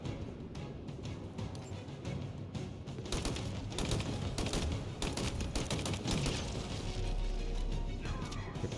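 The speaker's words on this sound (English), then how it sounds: "Battle rifle." Battle rifle gunfire in the Halo video game, a dense run of sharp shots cracking over continuous game noise and rumble, loud and close throughout, no voices heard.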